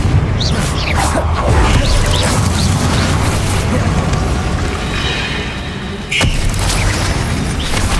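Fire-blast spell explosions in Hogwarts Legacy roar as a loud, dense, continuous wash of blasts and crackling debris, with a sharp fresh burst near the end and no talking.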